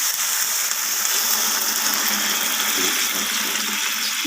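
Water poured into a simmering hilsa fish curry with potato and eggplant, a steady close splashing rush lasting the whole moment.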